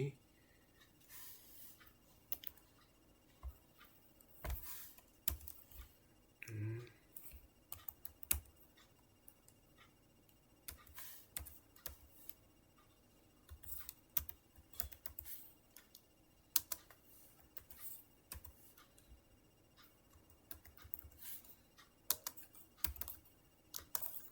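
Keys clatter on a computer keyboard during router configuration in a networking lab, with irregular bursts of close clicking typing and a faint voice now and then.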